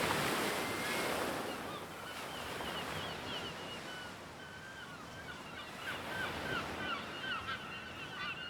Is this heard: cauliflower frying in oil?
no